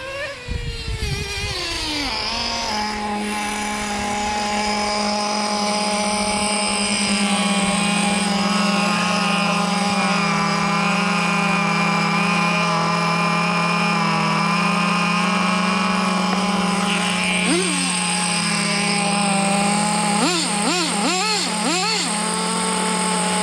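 HPI RS4 and Team Associated TC3 two-speed RC touring cars race with a sustained high-pitched electric-motor whine that rises and holds, with brief revving bursts near the end and no speech.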